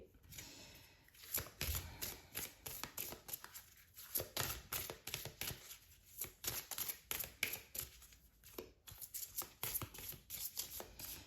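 Tarot cards are drawn and shuffled by hand, a quiet, close run of crisp riffling and slapping card sounds in uneven bursts with brief pauses.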